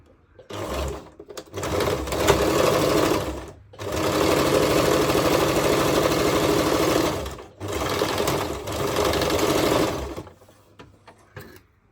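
A sewing machine stitches churidar pant pieces in three long, steady runs of rapid needle chatter, separated by brief pauses, close and loud with no talking.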